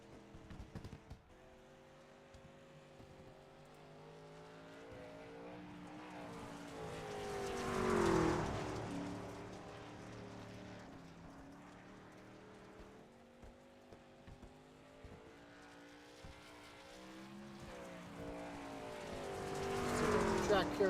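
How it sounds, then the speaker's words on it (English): Racing trucks qualifying on the Knoxville Raceway dirt track in iRacing, engines droning and swelling as they pass, with an announcer talking over much of it. "See Jason Schilling, one of the first trucks out on track."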